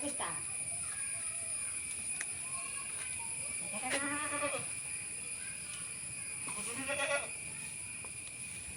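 Malabari goats, a pregnant nanny and her kid, bleat twice, loud wavering cries a few seconds apart, against a steady background hum.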